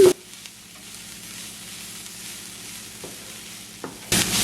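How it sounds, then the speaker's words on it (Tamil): Cabbage and egg stir fry sizzling in a pan, a steady frying hiss with soft stirring scrapes and a couple of brief clatters near the end. "இன்னொரு ஒன்று நிமிஷம் இப்படியே வறுத்தெடுப்பேன்"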